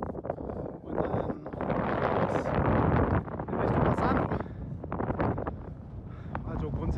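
A strong north wind gusts at a paragliding launch site near Bassano, buffeting the microphone with a loud, rushing roar that rises and falls in gusts.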